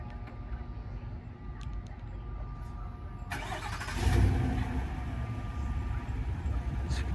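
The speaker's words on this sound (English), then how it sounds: "it's got a little nice rumble to it, like I said, aggressive look and sound to this Yukon" A 2022 GMC Yukon XL Denali engine auto-starts with a cranking surge, then settles into a steady, low rumbling exhaust idle, close and continuous, with no talking over it.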